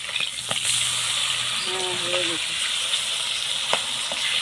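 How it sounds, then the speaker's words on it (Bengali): Rui fish pieces fry in hot oil over a village clay stove, a steady soft sizzle with a few clinks, while someone speaks briefly. "ওদিকে মাছ ভাজা হতে থাকে"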